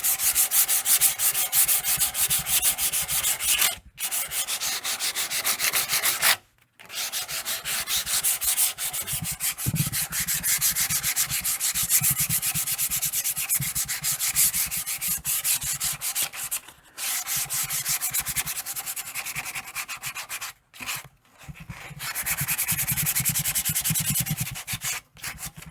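Sandpaper rubbing across a wooden guitar neck at a slightly higher grit, a close, continuous rasping scrub in long strokes with a few brief pauses, no talk.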